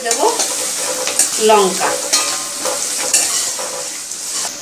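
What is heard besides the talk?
crushed garlic frying in oil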